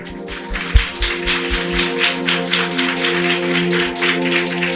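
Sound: audience clapping

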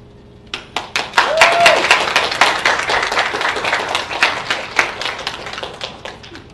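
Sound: audience applause after a student talk

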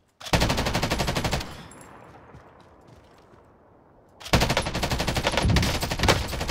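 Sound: gunfire in the video game Warzone

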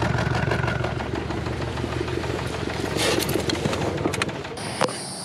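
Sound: car engine idling roughly

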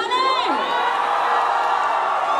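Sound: audience applause and cheering

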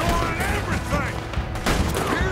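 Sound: turret gunfire in video game Red Dead Redemption 2

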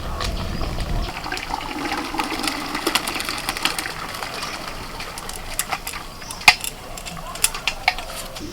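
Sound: starch water being drained from cooked rice

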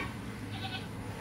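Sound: goat bleating

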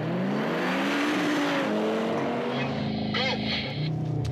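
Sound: car accelerating hard using race start launch control

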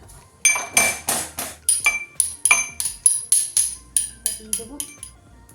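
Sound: crushing ginger and green chili

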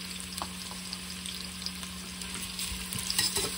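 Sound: onions frying golden in oil

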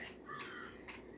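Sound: crow cawing in Roblox video game

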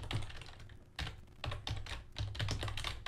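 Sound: typing code on a computer keyboard

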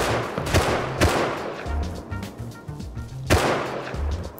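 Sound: gunfire in a survival shooter video game

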